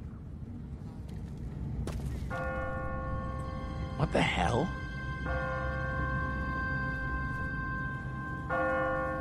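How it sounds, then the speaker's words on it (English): A church bell rings in The Walking Dead video game, several sustained tolls that come and go with a loud rumbling ambience underneath, and a voice speaks briefly in the middle. "What kind of church bell goes off at 20 past the hour?"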